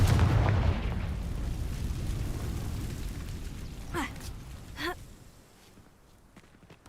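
Explosive Confringo spell blasts from the Hogwarts Legacy video game: a low rumbling wash fades, then two sharp, bright bursts go off about a second apart, fairly loud over a dim background.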